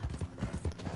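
Horse hooves clip-clop steadily in Red Dead Online, a close, even rhythm of repeated thuds at a moderate trot with no speech over it.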